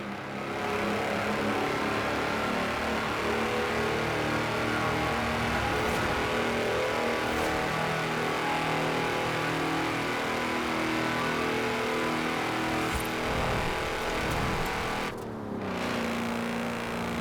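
A tractor engine in the Forza Horizon 4 racing game, built as the world's fastest tractor, drones and accelerates continuously at close range with a steady mid-pitched roar, alone without talk.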